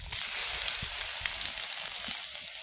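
Garlic frying in hot oil with dried red chilli, bay leaf and cumin, a steady close, bright sizzle with faint crackles throughout, no voices.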